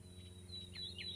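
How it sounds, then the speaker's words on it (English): A few faint, high chirps from birds sound in the distance over a steady low hum and quiet outdoor background in rural woods along a dirt road. "you can hear the birds chirping"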